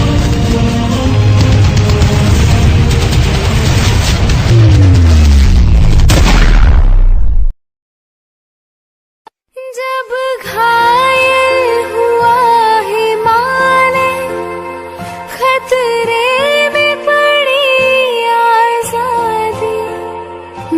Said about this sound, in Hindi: मथुरा प्रसाद जी, कवर फायर दो उन्हें